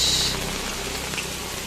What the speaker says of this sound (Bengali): দেখো কি বৃষ্টি, বাবা রে, চরম বৃষ্টি হচ্ছে।